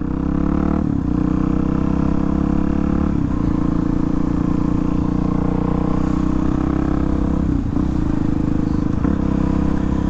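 Race car engine heard from the cockpit, a loud, steady multi-tone drone that breaks briefly several times as the driver shifts gears, the pitch resetting after each change.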